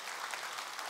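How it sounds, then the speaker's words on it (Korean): Audience applause at a Sunday Buddhist dharma talk in a temple hall, steady dense clapping from a large crowd throughout, fairly even in level with no pauses. "박수 한번 주시기 바랍니다."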